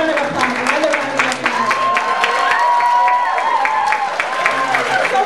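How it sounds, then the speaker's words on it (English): A crowd at a Citizenship Day gathering gives a round of applause, dense steady clapping close by with scattered cheers and voices mixed in throughout. "You guys can bring up a big round of applause."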